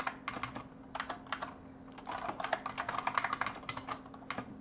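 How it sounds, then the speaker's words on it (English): Someone types on a computer keyboard during a lecture on financial markets, with rapid irregular clicking keystrokes in bursts, fairly close and moderately quiet, with no talking. "talking and typing at the same time is still difficult"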